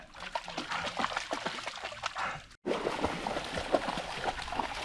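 A leashed dog romps through shallow spring water, splashing in quick, uneven bursts close by, with one sudden brief dropout before the splashing resumes.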